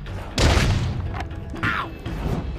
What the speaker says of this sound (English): This is a basic training dummy. You can destroy it with any type of attack. Hit it, Paul.